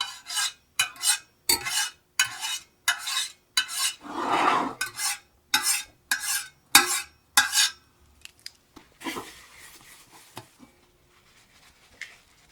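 A metal spatula scrapes and stirs across a seasoned cast iron pan with a little butter, giving a run of about a dozen loud, rhythmic metallic scrapes with one longer grinding stroke near the middle, then quieter scattered clinks at the end.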